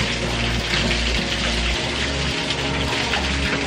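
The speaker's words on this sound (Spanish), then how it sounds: "Aquí estamos en los baños públicos. Son aguas termales" Water splashes and gushes in free public hot spring baths at a temple in India, a loud, continuous, close rushing wash with no clear breaks.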